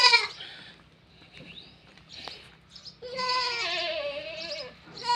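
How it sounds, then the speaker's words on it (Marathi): A mother goat bleats repeatedly for her surviving kid on a farm, calls rising loud and close at the start and again in a long sustained cry near the end, with quieter rustling between. "ती शेळी बोलवते तिला"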